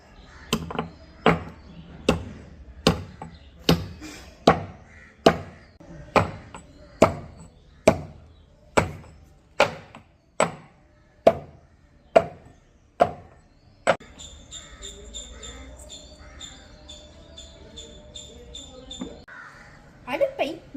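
Ginger and other herbal ingredients are pounded with about fifteen sharp, evenly spaced, close thuds, followed by a quieter stretch with faint clatter and a couple of final knocks.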